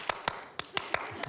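Bare hands clap sharply and close by, about six crisp, evenly spaced claps with short gaps and no talking.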